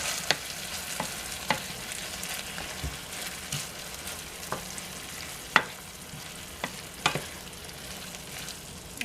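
Beans being stirred into hot dog stew in a pot, a bubbling sizzle running throughout with regular spoon scrapes and knocks against the pot, close and fairly soft.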